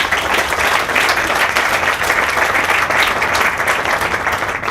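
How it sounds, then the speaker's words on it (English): A crowd applauds Campbell Soup at a community kitchen announcement, giving a thick, even wash of clapping from many hands that holds steady at full strength throughout. "So let's give Campbell Soup a round of applause"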